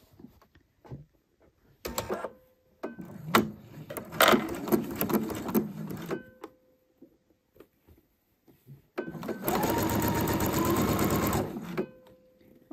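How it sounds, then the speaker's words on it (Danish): A sewing machine stitches shoulder seams on a garment in several short runs and one longer steady burst, its rapid whirring needle close and clear between quiet pauses. "Og så syr jeg de fire skuldersømme, to på ryg og forstyk, og to på belægningerne på samme måde."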